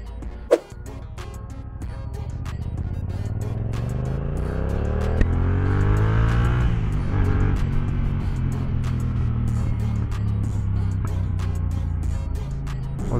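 A Yamaha R7 sport motorcycle engine roars close by, its pitch climbing through the gears and easing off, a continuous loud ride with no talking.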